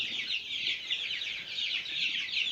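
Australorp chicks less than 20 days old in a cage, a dense, continuous chorus of high chirps and peeps from many birds close by, with no voices.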